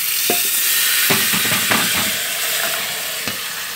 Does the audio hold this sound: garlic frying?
yes